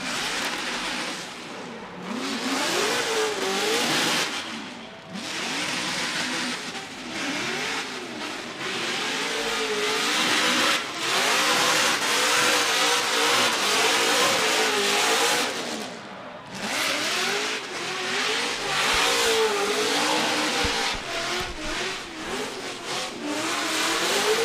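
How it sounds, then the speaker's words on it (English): Formula Drift car doing celebratory donuts, its engine revving hard and wavering in pitch with tire squeal, loud and sustained for over twenty seconds. "there it is, some celebratory donuts"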